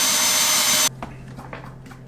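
A power drill bores through a vintage 1964 Gibson LG-0 acoustic guitar, whining loudly and steadily for under a second before stopping abruptly, followed by quieter handling taps and rustles.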